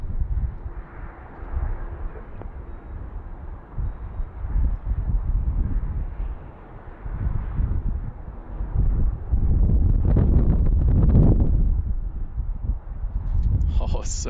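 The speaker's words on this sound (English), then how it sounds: "Oh, so gusty." Gusty wind at Denver Airport buffets the microphone with low rumbling surges that rise and fall, swelling strongest toward the end, with faint aircraft noise in the background.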